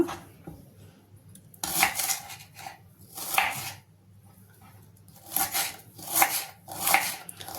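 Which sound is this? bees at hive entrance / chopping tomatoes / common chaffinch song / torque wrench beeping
chopping tomatoes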